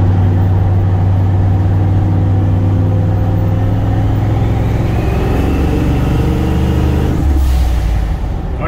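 Turbocharged EFI Ford 460 engine driving on the road, a loud steady low-pitched drone that holds throughout with a shift in tone near the end, no talking.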